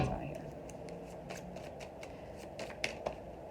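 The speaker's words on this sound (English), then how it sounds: "Let me get some more cards out here." Tarot cards are shuffled and drawn by hand, making soft riffles, light flicks and a couple of sharper snaps, all faint and close against a quiet room.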